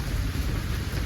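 Rain falls outdoors where newborn animals are kept, making a steady broadband wash with a low rumbling undertone. It is continuous and even, with no speech over it.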